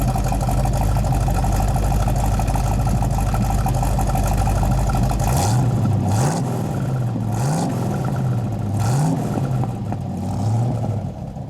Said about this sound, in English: Give it a little rev, would you?